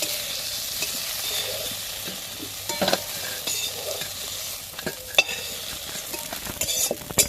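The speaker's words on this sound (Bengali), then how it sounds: "ভেন্ডিটাকে বেশ একটু ভাজা ভাজা করে নিয়েছি এবার আমি ভেন্ডিটাকে তুলে নেব" Okra fries in oil in a pan and is stirred, a continuous close sizzle broken by scraping and clattering strokes of a spoon, with no voices.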